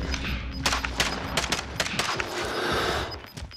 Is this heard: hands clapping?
no